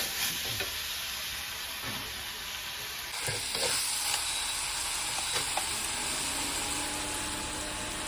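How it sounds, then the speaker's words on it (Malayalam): Onions with ginger, garlic and curry leaves sauté in a pan for a squid fry masala, giving a loud, continuous close sizzle with occasional scraping stirs of a spoon. "ഉള്ളി നല്ലോണം വഴണ്ട് വന്നിട്ടുണ്ട്"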